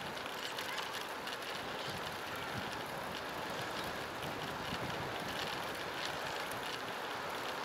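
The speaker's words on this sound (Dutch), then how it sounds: "Er is toch wel heel wind." Strong wind roaring steadily and loudly across an outdoor microphone, a dense unbroken rush with no voices.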